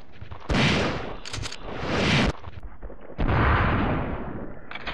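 Three loud, close gunshot-like blasts from the survival horror game Resident Evil 3, each a broad explosive burst with a lingering decay, the second pair coming in quick succession.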